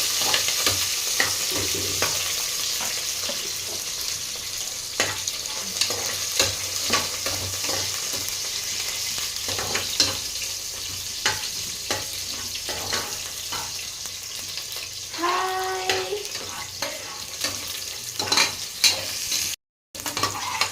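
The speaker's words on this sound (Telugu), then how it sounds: "గోల్డెన్ బ్రౌన్ వచ్చే వరకు వేగించుకోవాలండి" Food frying in a pan until golden brown, a steady sizzle with repeated scrapes and stirs of a spoon against the pan, close and continuous.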